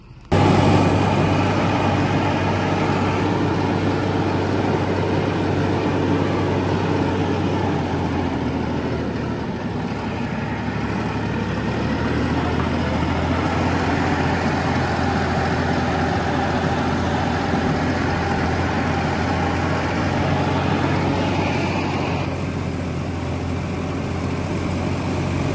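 A tractor engine runs steadily at idle during a hay harvest, a constant low rumble with a mechanical hum that holds unchanged throughout, loud and close.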